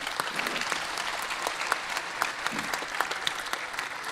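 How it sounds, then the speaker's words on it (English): Sustained applause from a large audience at a world leaders' climate summit session in Sharm el-Sheikh, a dense steady patter of many hands clapping, moderately distant, with no talking over it. "Big round of applause."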